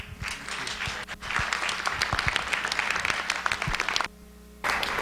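Scattered clapping from a small political science lecture audience rattles on for several seconds, cuts out briefly, then resumes.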